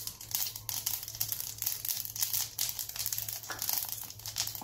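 Mustard seeds and cumin crackle and sizzle in hot oil in a home kitchen, with a dense, steady spattering that stays close and moderately loud throughout, with no talking.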